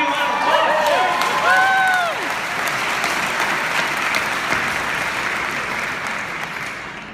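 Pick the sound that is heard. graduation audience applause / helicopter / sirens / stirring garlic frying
graduation audience applause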